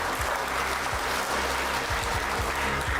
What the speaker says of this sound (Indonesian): Tepuk tangan dulu untuk Polri.